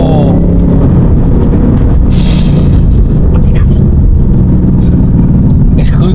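A Ford Mustang GT500 engine roars loudly and continuously from inside the car as it drives, a dense low rumble with bursts of revving throughout.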